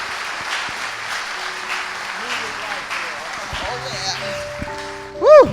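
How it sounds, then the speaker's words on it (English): Steady applause from a crowd fills the clip, with a voice speaking over it and a loud shout near the end. "Let's give Celeste Johnson a tremendous round of applause."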